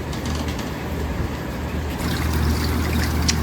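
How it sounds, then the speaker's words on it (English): Water runs steadily into an aquarium in a home fish room, making a continuous broadband rush and trickle that grows slightly louder partway through, with no voices. "Let me go turn the water on."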